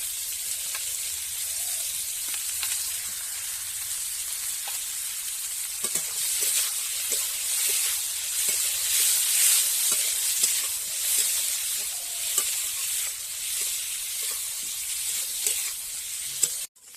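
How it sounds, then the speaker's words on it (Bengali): Sliced onions fry in hot oil in a pan, giving a steady bright sizzle close by, with occasional soft stirring clicks and scrapes, and no voices. "পেঁয়াজটাকে লাল লাল করে ভেজে নেবো"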